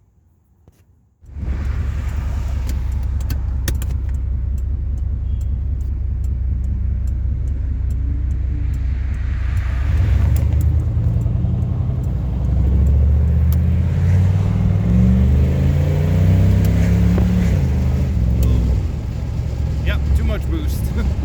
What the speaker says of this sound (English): We actually got into a little detonation there.